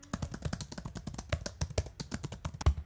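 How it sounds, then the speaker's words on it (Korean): Fingers type quickly on a quiet, laptop-style keyboard that doubles as a mouse, making soft, close, irregular key taps in a busy run with small pauses. "타자 치는 소리도 조용해서 마음에 들어요"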